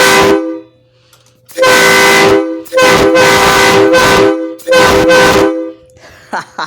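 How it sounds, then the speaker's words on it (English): A truck/train air horn fed from a pressurized tank and worked with a pull valve blares in three loud, sustained blasts separated by brief pauses, each one a harsh, rich tone close to the microphone. "time to give our horn a little honk"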